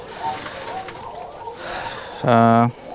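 Low-pitched cooing of Rajshahi high-flying Giribaz pigeons under a voice, ending with a loud, close, wavering coo.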